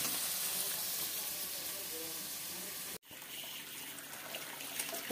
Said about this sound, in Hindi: अभी धुल रहे हैं बर्तन